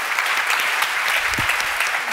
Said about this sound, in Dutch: Geef er een hard applaus.